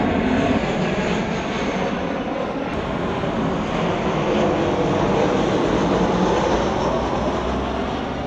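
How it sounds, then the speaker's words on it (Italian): Fixed-wing airplane passing near an airport, a loud, steady broadband engine roar that fills the whole span with no talk over it. "Questo è un altro aereo,"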